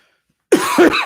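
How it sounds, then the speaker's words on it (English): A single close, loud cough into a microphone after a moment of silence, harsh and breathy with a couple of bursts. "coughing into the microphone"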